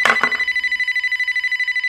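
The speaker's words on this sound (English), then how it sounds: "when the phone rang." A telephone rings with a rapid electronic trill, pulsing steadily and close-up after a brief clatter at the start, then cutting off.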